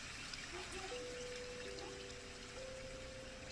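Water flowing and trickling steadily from a waterfall, a continuous close wash with faint tonal whistles drifting above it.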